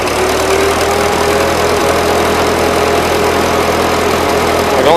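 A 1941 Ford 9N tractor engine idles after a carburetor adjustment, running steady and close with a slight miss, loud and continuous with no talk.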